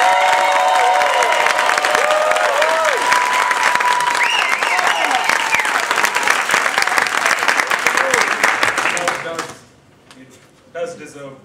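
Loud, dense applause and some cheering from a crowd at a speech contest, holding steady for several seconds before fading out abruptly near the end, followed by a brief quiet sound.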